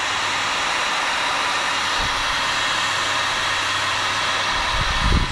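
Heat gun blowing hot air on a plastic fender liner of a Lexus IS250, a loud, steady, close whooshing hiss that runs without a break, with a few low handling bumps near the end and no speech.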